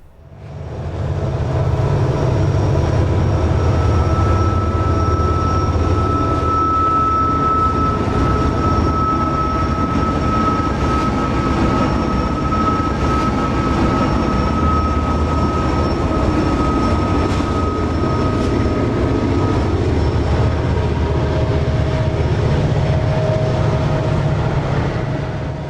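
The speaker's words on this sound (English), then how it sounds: "That's Amtrak's Pennsylvanian, which passes once a day in each direction." Amtrak's Pennsylvanian passenger train passes along the former Pennsylvania Railroad line, a loud, steady rumble with wheel and rail noise and a sustained tonal whine that holds for the whole span, close by and with no voices.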